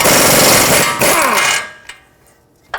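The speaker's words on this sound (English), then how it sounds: "use a 17mm socket and remove the mounting nut that holds the outer tie rod stud onto the knuckle" An impact wrench with a 17mm socket rattles loudly, spinning off the outer tie rod mounting nut on a Jeep Renegade's steering knuckle for about a second and a half, then stops, followed by a couple of faint metallic clicks.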